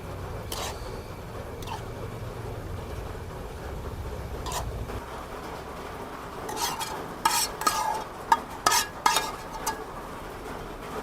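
Cheesy, creamy pasta with vegetables is stirred in a pot with a utensil, giving irregular clinks and scrapes against the metal that grow busier toward the end, over a steady background hiss.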